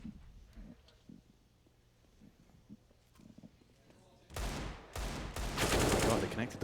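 Counter-Strike gunfire on the Mirage map during a G2 vs Spirit grand final: a quiet stretch of faint clicks and movement gives way to loud, dense bursts of automatic fire that continue to the end.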